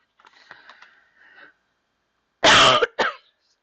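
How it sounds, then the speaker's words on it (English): A person coughs indoors: faint throat sounds at first, then one loud harsh cough and a second shorter cough right after, close and alone. "I keep coughing."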